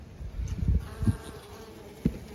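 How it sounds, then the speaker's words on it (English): Honey bees buzzing inside a Langstroth hive in winter, a small cluster humming low and steady with a few louder swells as the cover is about to be opened. "but we do have a cluster of bees."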